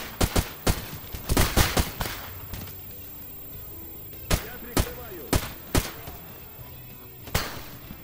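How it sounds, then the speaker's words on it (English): Gunfire in STALKER GAMMA: sharp, loud rifle shots in quick irregular bursts, several close together at the start, then single cracks spaced out toward the end. "They're just shooting through the bush anyway!"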